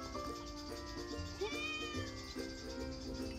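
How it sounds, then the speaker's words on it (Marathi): A pet cat meows repeatedly at close range, several drawn-out calls over a low background hum. "किती छान आहे बघा ना मांजर"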